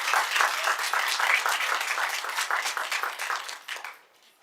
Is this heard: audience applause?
yes